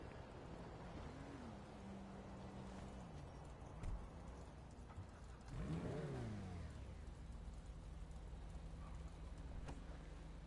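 Supercharged Ford Mustang engine in the video game GTA: a quiet, steady low engine tone, broken midway by one rising and falling rev before settling back to idle, with no talking.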